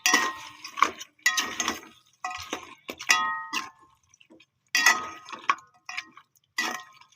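Mutton pieces with ginger garlic paste being sautéed in a pan, heard as a series of irregular metallic clanks and scrapes from a ladle against the pan, in short bursts separated by brief pauses.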